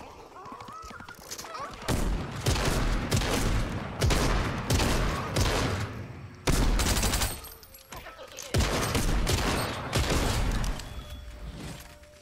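Rapid gunfire aimed at a llama in a video game, repeated loud bursts in several volleys separated by short pauses, with a voice briefly heard.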